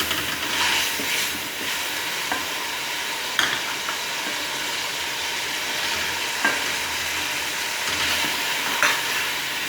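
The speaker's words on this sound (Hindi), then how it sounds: "लहसुन अदरक का पेस्ट हमारा हल्का फ्राई हो चुका है, अब इसमें टमाटर और सब्ज़ मिर्चें ऐड करते हैं।" Tomatoes and green chilies fry with garlic ginger paste for aloo palak, producing a continuous close hissing sizzle with occasional spatters and light stirring clicks, no voices.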